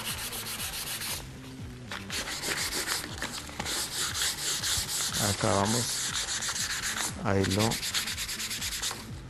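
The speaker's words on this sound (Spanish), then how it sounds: "desvaneciendo con una lija 150." Steady, loud rubbing strokes of 150-grit sandpaper feathering a surface finish, continuous back-and-forth scraping with a few louder bursts, while a voice speaks briefly near the start.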